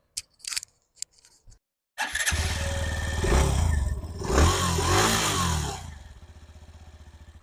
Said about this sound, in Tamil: இந்த இன்ஜினோட எக்ஸாஸ்ட் நோட் எப்படி இருக்குன்னு கேட்போங்க